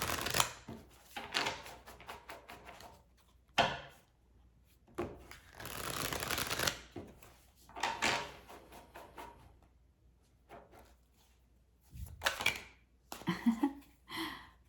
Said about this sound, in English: I started shuffling